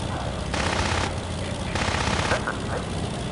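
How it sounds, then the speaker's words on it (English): The tail gunner's machine gun in the air-combat game Cliffs of Dover fires in two sustained bursts over constant engine drone, loud and close, followed by a few short tonal sounds. "tail gunner's still firing away"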